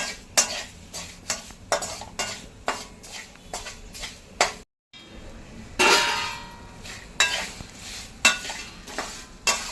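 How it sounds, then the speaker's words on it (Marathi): Puffed rice chivda is stirred with salt and spices in a pan, giving a run of close, rhythmic scraping and clinking strokes with a brief pause midway and no talking. "आपल्या चवीप्रमाणे मीठ आणि हे सगळं असं मिक्स करून घेऊया"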